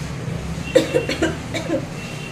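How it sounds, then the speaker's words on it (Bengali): A few short, soft coughs in a quick cluster, close by, with quiet room noise around them. "এখনো অল্প অল্প কাশি আছে, অল্প একটা।"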